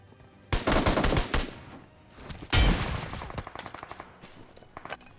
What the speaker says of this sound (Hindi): अभी मैं आगे बढ़ रहा होता हूँ, गोली चल रही है आगे।